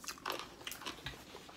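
Close bites into crunchy KFC spicy fried chicken cartilage, a quick series of faint cracking crunches and chewing sounds.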